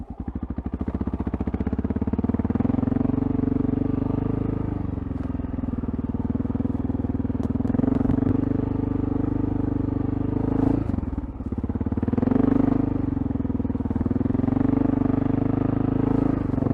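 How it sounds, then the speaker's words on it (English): Off-road dirt bike puttering through sand in first gear, its engine a steady, loud, near mid-pitched drone with small throttle surges and a brief dip near the end, running alone. "We're going to take off in first gear and just kind of putter through this sand."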